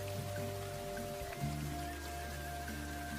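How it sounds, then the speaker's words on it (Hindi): Steady, heavy rain pours down outdoors, a dense continuous hiss with scattered drops, no voices over it. "बारिश अब और तेज हो गई थी।"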